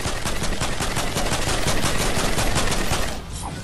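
Fortnite automatic shotgun fires in a fast, loud, continuous string of blasts close up, stopping near the end.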